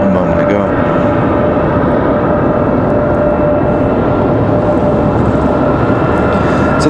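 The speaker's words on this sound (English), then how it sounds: "We've got double CRJ departures out of the alleyway." Bombardier CRJ regional jets departing Raleigh-Durham airport: a loud, steady broadband jet roar with a faint whine, continuous and close throughout, with wind buffeting the microphone.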